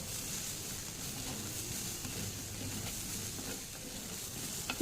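Horsegram frying in a pan gives a faint, steady sizzle with soft scraping from stirring, low and even throughout, ending in a brief clink.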